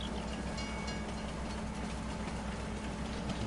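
A train in Farming Simulator 19 rumbles past in a steady, loud, continuous drone of engine and rolling wheels, no voices.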